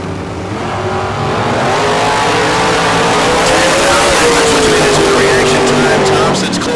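Chevy drag race cars launch and accelerate down the strip at Firebird Raceway in Idaho, a loud engine roar swelling and climbing in pitch as the cars pull away, with an announcer talking over the noise.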